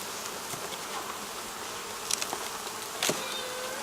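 Honey bees swarm and buzz around an open hive box in a feral bee yard, a dense continuous hum close by with a few brief knocks and clicks over it.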